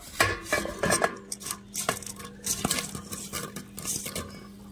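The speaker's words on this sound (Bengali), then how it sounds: "ভালো করে নেড়ে চেড়ে একটু মিশিয়ে নেব" Fried semolina sweets being stirred into thin sugar syrup in a pan, with repeated close clinks and scrapes of a utensil against metal in an uneven rhythm.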